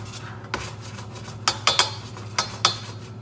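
A utensil scrapes and clinks against a pan while butter is worked into a shrimp scampi sauce, a handful of uneven metallic scrapes over a steady low kitchen hum.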